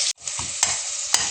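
Greens dropped into hot tempering oil for chicken pulao sizzle steadily, with a few sharp clinks of a spoon stirring the pan and a brief pause near the start.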